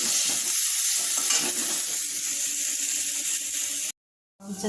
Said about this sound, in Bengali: আর আলু ভাজি হচ্ছে